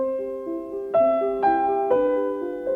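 A well-known Mozart piano piece played on solo piano, a moderate melodic line of clear sustained notes over lower accompaniment, about six note changes in three seconds, alone with no talk.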